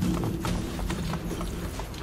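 Horse galloping in the video game Assassin's Creed Brotherhood, a quick run of rhythmic hoof clops over game background noise, fairly close and steady across the short stretch.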